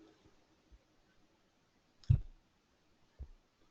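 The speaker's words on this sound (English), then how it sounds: "Now click on OK here." A single sharp computer mouse click close by, with a fainter second click a moment later, in an otherwise quiet room.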